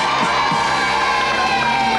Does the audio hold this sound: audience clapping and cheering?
yes